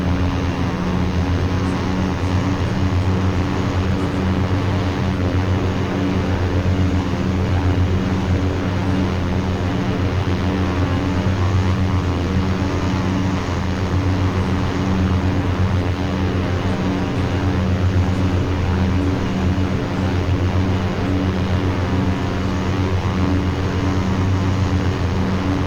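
An OV-10A Bronco's propeller engines run at full RPM in the DCS flight simulator, a loud, constant droning hum with steady tonal whine, uninterrupted and with no talk.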